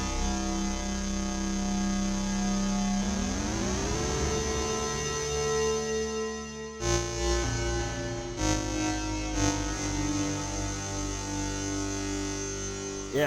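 Korg NTS-1 digital synthesizer with a space-type reverb, a sustained droning tone that slides upward in pitch, then breaks into pulsing, washy chords with long reverberant tails.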